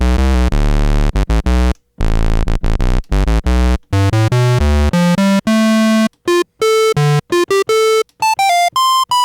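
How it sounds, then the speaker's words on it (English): Oscillator 1 of a Dreadbox Typhon synthesizer plays a buzzy square wave in bursts of notes separated by brief silences, stepping from low, thick tones up to higher, thinner pitches, loud and dry with no talking. "Oscillator 1 playing that square wave."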